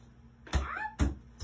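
A cat meows twice in a children's spelling game, with two short, clear, rising-and-falling calls close up and no talking over them.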